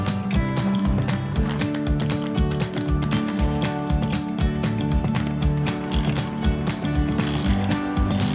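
A hand ratchet undoing the seat bolts inside a van being converted, clicking rapidly and steadily in close, loud, even strokes throughout, with no talking over it.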